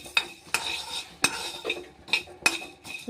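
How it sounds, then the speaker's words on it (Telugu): Light deep frying in a kadai, heard as a soft oil sizzle broken by several sharp metal scrapes and clinks of a stirring utensil against the pan, close by and steady, with no talking. "ఇవి బాండ్లీలో పోసి లైట్గా డీప్ ఫ్రై చేసుకోవాలండి"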